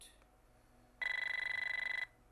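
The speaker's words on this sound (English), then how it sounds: "yeah, it's ringing." An IP desk phone on an Avaya IP Office system linked to FreePBX over a SIP trunk rings with one steady burst of rapid warbling electronic tones lasting about a second, clear and nearby in a quiet room.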